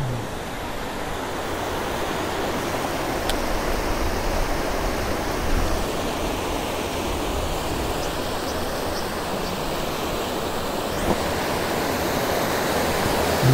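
Steady broadband rush of flowing river water in the countryside, a continuous near wash with no voices, heard while out cycling past rice terraces.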